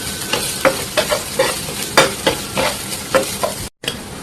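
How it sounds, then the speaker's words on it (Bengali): Onions and chillies frying in oil in a pan, loud close sizzling broken by regular stirring scrapes every half second or so, with a brief dropout near the end. "আমার পেঁয়াজটা ভাজা হয়ে গেছে"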